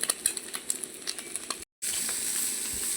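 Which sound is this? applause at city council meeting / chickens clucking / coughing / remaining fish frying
remaining fish frying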